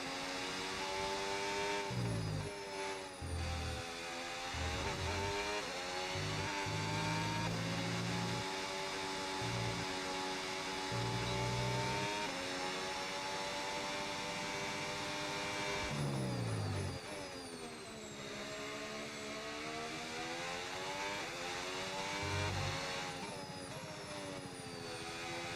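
A Cadillac Formula 1 car in the F1 26 racing game laps a circuit, its high-revving engine rising and falling through gear shifts, dropping sharply for braking and then climbing again, continuous and loud.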